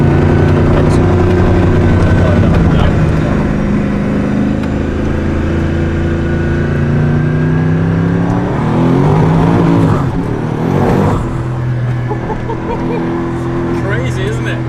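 Gumpert Apollo S sports car engine heard from inside while driving, a loud, deep, continuous drone with a sweep in pitch as the revs rise and fall, and people talking over it.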